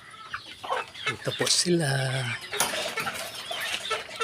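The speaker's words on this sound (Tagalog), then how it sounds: "Ipapakita ko po sa inyo yung mga alaga kong manok." Native backyard chickens mixed with Black Australorp, about three months old, cluck in a small raising area. Their clucks come close and steady, with some squawks, while someone talks over them.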